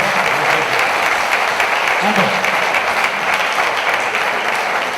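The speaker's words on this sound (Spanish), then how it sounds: "va un caluroso aplauso para Marcelino Recojo, por favor." Steady, loud applause from an audience, a dense wash of clapping that continues throughout.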